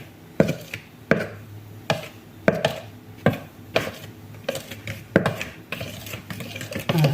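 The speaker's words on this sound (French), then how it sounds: "je vais mélanger délicatement" Cake batter for a Ferrero Rocher Yule log being folded gently by hand, with a series of soft, regular scraping and knocking strokes against the bowl, close and moderately loud, no voices.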